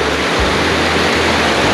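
Mae Kampong waterfall in a Thai village roars as a dense, steady wash of falling water, loud and close, with no voices.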